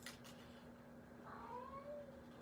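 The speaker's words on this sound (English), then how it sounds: "I know, Kitty. Your life is so hard." A cat meows indoors near someone cutting paper for handmade pet cards, a short rising-and-falling cry in the second half, moderately loud over a steady low hum.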